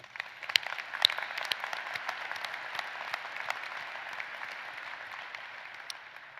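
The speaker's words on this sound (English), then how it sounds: "Graduates, how about a round of applause for your supporters at the University of Maine?" Broad, steady applause fills a University of Maine undergraduate commencement ceremony as the crowd honors graduates' supporters, a dense wash of many hands clapping at moderate distance for several seconds.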